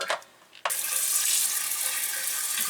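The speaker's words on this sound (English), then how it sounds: "And one of my favorite parts, the sprayer." A Dometic RV toilet sprayer bursts on with a loud, steady hiss of spraying water after a brief quieter moment, running continuously and close by.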